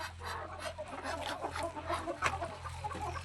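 Country chickens and roosters cluck repeatedly on a small farm, a busy chorus of short calls at moderate distance over a low steady hum, with no talking.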